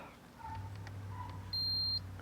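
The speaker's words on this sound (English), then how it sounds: "So you can hear the beep." A single steady electronic multimeter beep sounds for about half a second over a low hum, crisp and close, while testing a 2001 Mercury 200 EFI outboard.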